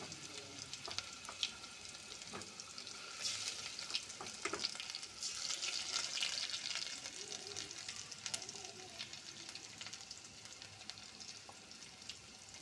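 Onion paste frying in a pan, a steady close sizzle with occasional stirring scrapes and taps throughout.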